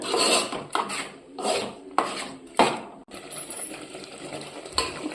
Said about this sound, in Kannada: ಹಿಂಗೆ ಪದೇ ಪದೇ ಕೈ ಆಡಿಸ್ಬೇಕು ಸ್ಪೂನ್ ತೊಗೊಂಡು